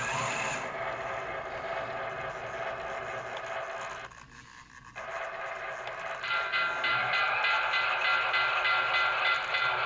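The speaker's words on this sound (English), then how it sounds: "That's the bell. Gotta have enough juice for it to go. There's the horn." A steady mechanical hum with a brief pause, then a ringing, tonal clatter from the bell and horn of an unrun, mint 1991 American Flyer by Lionel Missouri Pacific model passenger train, close by, with no talking.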